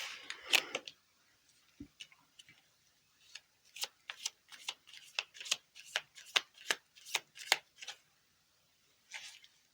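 Quiet, crisp riffling of tarot cards being shuffled in irregular bursts of short flicks and taps, no voices.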